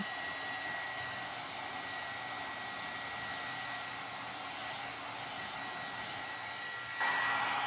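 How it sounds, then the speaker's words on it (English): A heat gun blows a steady, close, whooshing hiss while embossing powder is melted on a stamped card, running continuously with a slight jump in loudness near the end. "Now I'm embossing it just because I wanted that little bit of shine"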